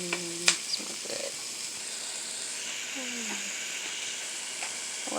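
A little olive oil frying in a pan, a steady bright sizzle running throughout, with a few short voiced sounds and a clatter near the start over it.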